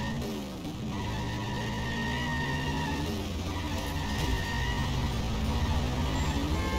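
A car in the game The Simpsons Hit and Run drives hard with a steady engine roar and long tire skids, loud and continuous, with the engine pitch rising and falling through the turns.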